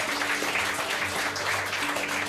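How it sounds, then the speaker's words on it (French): Lively clapping from a restaurant crowd honoring the owners, a continuous dense wash of applause with a low murmur of voices underneath throughout. "On peut les applaudir tous les deux."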